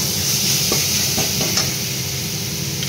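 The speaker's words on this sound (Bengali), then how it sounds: "এবারে দিয়ে দেবো একটু টমেটো পেস্ট। একটু নেড়ে নেবো।" Tomato paste stirred in a hot frying pan, a steady close sizzle with a few soft scraping strokes of the spoon across the pan.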